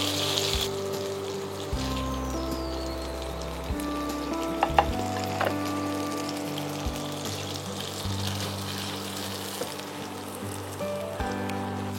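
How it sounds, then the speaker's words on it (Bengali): Onions frying in a little oil for prawn biryani, a steady bubbling sizzle close by with occasional clinks and scrapes of a spoon in the pan. "এই তেলটাতেই পেঁয়াজটা ভাজবে।"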